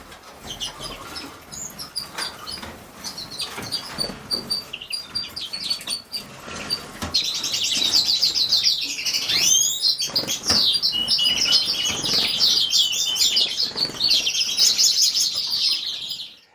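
Aviary finches, redpolls and greenfinches, chirp and twitter close by, faint and scattered at first, then a dense, loud, continuous chorus of high calls with occasional wing flutters.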